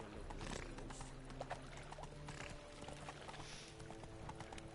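Horse Roach galloping in the video game The Witcher 3, with steady clip-clop hoofbeats running under a game soundtrack and ambient noise.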